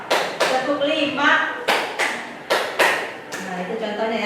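Sharp hand claps from a counted classroom exercise at an Indonesian vocational school, about eight crisp close-up claps in an irregular rhythm, each a bright slap with a short ringing tail, heard alone without talk.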